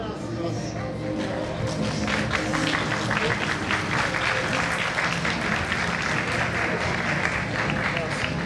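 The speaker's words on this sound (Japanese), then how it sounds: "皆さん、一緒に今一度大きな拍手をお願いいたします。" A crowd at a kickboxing event in Osaka breaks into loud, sustained applause that swells after a brief start and holds steady, dense and close, with voices mixed into the clapping.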